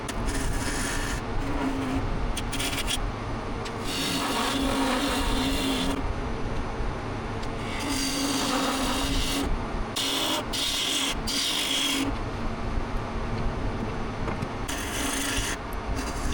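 Wood lathe turning a hard, burnt log, giving a steady rubbing, rasping cut that comes in repeated passes with short pauses between, fairly close and moderate in level, no talking.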